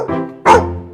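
A single dog barks twice up close, a short yelp followed by a louder, longer bark, with no voices over it.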